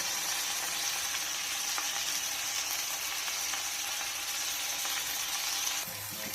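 Chopped tomato, onion and salt fry in a pan for pasta, giving a steady bright sizzle that runs evenly for several seconds before easing slightly at the end, with no voices.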